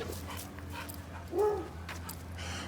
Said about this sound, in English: That dog loves to fence fight.